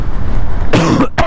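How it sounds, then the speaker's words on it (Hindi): A rider on a KTM Duke 390 motorcycle gives a few harsh, close coughs after a stretch of steady wind and engine rush. "गन्ना देखते ही खांसी भाई"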